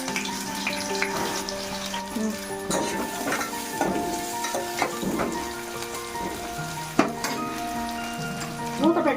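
Onions fry in oil with cloves in a pan for egg pulusu, a soft continuous sizzle with occasional stirring knocks, while someone talks over the cooking.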